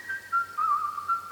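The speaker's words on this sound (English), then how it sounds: "This Gohan whistling thing makes me so uncomfortable." Gohan whistles a short, wavering tune in a Dragon Ball Z movie, a clear single-note melody against a quiet background.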